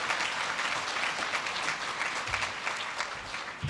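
An audience at a Jewish community federation gathering claps continuously, a dense, even wash of applause sustained for the whole stretch with no talk above it.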